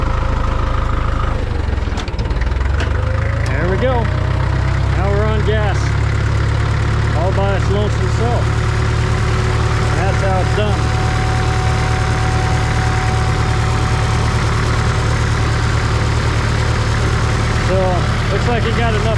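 A Farmall MD tractor engine runs steadily on gasoline after startup, a loud continuous low rumble with mechanical knocking, while someone talks over it intermittently.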